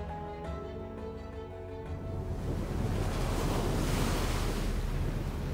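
Atlantic sea waves off North Africa wash steadily, starting with a low tonal hum beneath and building into a broad, continuous surf roar with some wind, no voices.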